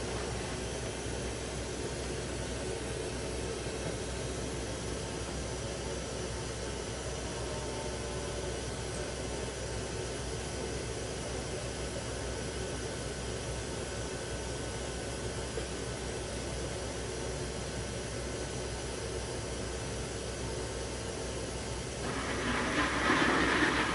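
Coolant reservoir pump on a Trak CNC machine running steadily, a continuous broadband hiss and hum with no breaks, moderately loud throughout and slightly louder toward the end.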